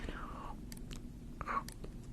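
A soft, close whispery voice imitates a dinosaur chewing, making a few quiet smacking, crunching mouth sounds in short bursts over a faint background hush.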